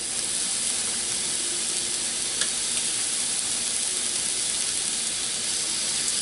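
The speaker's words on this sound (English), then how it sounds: "Can you hear that sizzle?" Steady, close sizzling and crackling of street food frying on a hot griddle, continuous hiss with small pops, no voices.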